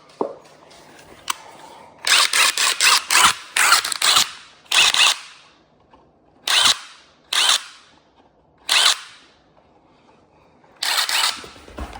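A power drill drives screws into a nightstand in a run of short, loud bursts of whirring, separated by quiet pauses while the piece is repositioned.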